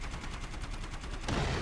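Rapid, evenly spaced gunfire rattles through a King's Row match of the Overwatch video game as Sigma fires at Orisa. The shots form a continuous rhythmic stream, with a heavier thump near the end.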